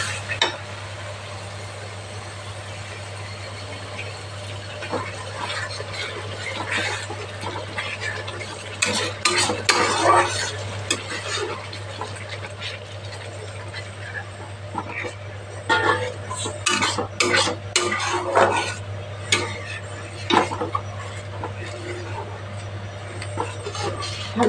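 A spatula stirs and scrapes frying spice paste in a pan after water is added for a hilsa roast, with a bubbling sizzle, clustered metallic scraping strokes and a steady low hum underneath.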